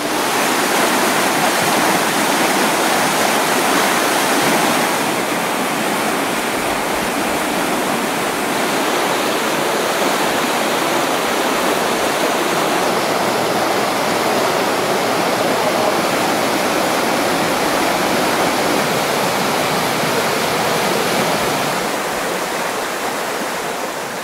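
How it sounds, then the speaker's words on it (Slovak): A wild mountain stream rushes through a river valley, a loud, dense, continuous roar of flowing water with no voices, steady for the whole stretch. "Je to skutočne pravý potok."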